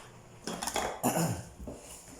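Metal utensils scrape and clink against a bowl while macaroni salad is stirred, in a few close, uneven bursts of clattering.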